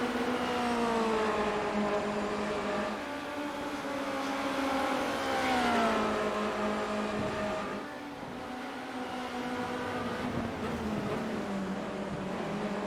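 A Formula Renault 2.0 race car's engine at Suzuka, heard onboard down the back straight: a loud, close, continuous drone whose pitch climbs and dips as it revs through gears, with no voices.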